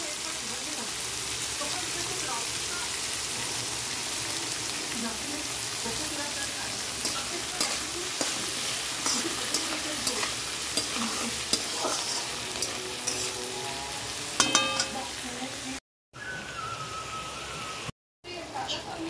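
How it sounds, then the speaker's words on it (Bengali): Sliced onions with salt sizzle in hot oil while being stirred in a pan, a constant hissing fry broken by scraping strokes and occasional pops, with brief gaps near the end. "পেঁয়াজটা ভাজা হয়ে গেছে।"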